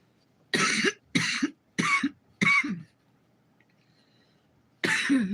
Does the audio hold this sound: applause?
no